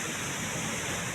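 Steady broadband roar of Bibit Falls, a waterfall where fish are caught, filling the whole moment at constant loudness with no voices over it.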